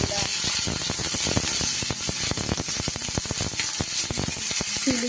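Diced onion cubes hit hot oil already sizzling with cumin and browned chopped garlic, a steady close crackle with dense irregular popping throughout, no talk.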